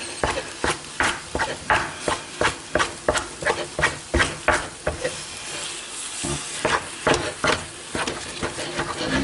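Thick choux pastry dough is stirred and folded over in a pan, producing a steady series of close, sticky slaps and thumps with faint sizzling underneath, slowing briefly before resuming.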